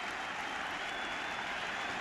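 Yankee Stadium crowd at the 2000 World Series Game 2 against the Mets roars and applauds after a strikeout, a dense, sustained wash of cheering and clapping heard from a distance.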